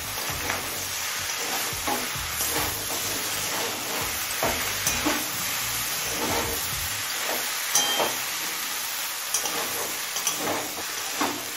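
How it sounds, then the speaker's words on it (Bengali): Eggplant frying in a pan with bottle gourd and other vegetables, giving a steady close sizzle broken by repeated scraping stirs. "বেগুনটা দিয়ে আরও 3 মিনিট মতো ভেজে নিলাম।"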